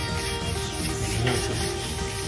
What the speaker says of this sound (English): slowly brush the excess grease that we cannot reach